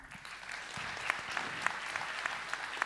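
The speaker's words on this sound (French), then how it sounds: "Vincent Bontemps, qu'on va applaudir aussi." A panel audience applauds a guest at a talk on future technologies, steady mid-distance clapping throughout with sharper individual claps standing out near the end.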